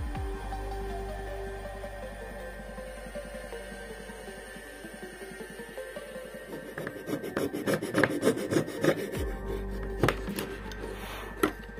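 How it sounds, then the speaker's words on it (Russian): Hand files rasp along a wooden knife blade, a dagger replica, in steady back-and-forth strokes that start soft and grow louder and more forceful in the second half, heard up close with no talking. "Теперь затащу лезвие на ножах напильниками, чтобы заточка была правильная"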